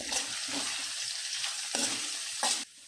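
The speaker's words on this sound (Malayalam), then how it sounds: "ഇത്രയും ചേർത്ത് കൊടുത്ത് നമുക്ക് ഈ സവാള നന്നായിട്ടൊന്ന് വഴറ്റിയെടുക്കാം" Sliced onion sautés with garlic, slit green chillies and salt in a pan, giving a soft continuous sizzle broken by a few sharp scraping stirs. No speech is heard.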